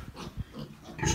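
A 16-day-old piglet grunts in short, soft snorts while being weighed, a few quick grunts close by, fairly quiet.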